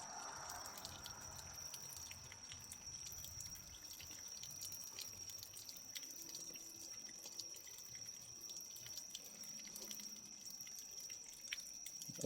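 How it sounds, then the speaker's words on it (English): Water drips and trickles from the split case of a John Deere Model M tractor, faint scattered drops over a steady low background hiss. "All kind of water coming out."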